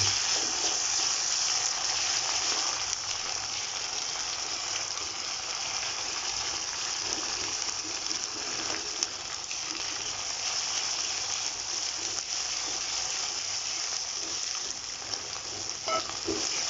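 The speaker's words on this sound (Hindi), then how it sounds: "हम इसको इसमें हम मिर्चें भी साथ ही डाल देंगे, 5 मिर्चें जो मैंने आपको दिखाई थी ये भी चॉप्ड है, और हम इसको थोड़ा सा चलाएँगे।" Mixed vegetables and chopped chilies sizzle in a hot pan of ghee on a stovetop, a steady, close frying hiss that carries on evenly throughout with faint stirring scrapes and no voice.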